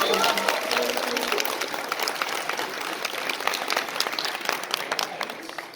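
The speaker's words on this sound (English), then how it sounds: "Give her a round of applause." Audience applause at a convention panel in Calgary, a broad, steady patter of many hands clapping with a voice faintly audible near the start.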